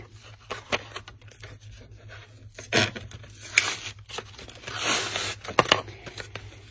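Close crinkling and ripping of plastic packaging as haul products are torn open, in irregular bursts of tearing and rustling with quieter handling between them.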